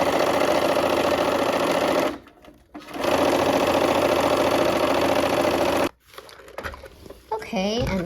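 A sewing machine stitching quilt block pieces runs in two long steady bursts of fast, even mechanical whirring with a short pause between, then stops, followed by quiet handling sounds and brief talk.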